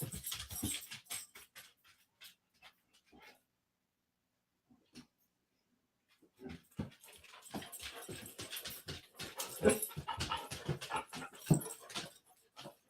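A dog pants and whimpers close by in uneven bursts of breathy huffs and thin whines, with a quiet pause in the middle before the noises resume louder.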